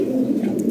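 Lahori Sirazi pigeon cooing in a low, steady, continuous hum, close and moderately loud, with no speech over it.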